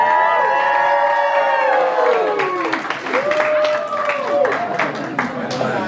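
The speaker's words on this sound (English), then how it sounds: "which deserves a round of applause" Wedding guests at an evening reception burst into applause and cheering, a dense wash of clapping with whoops and shouts, loud and close, fading slightly toward the end.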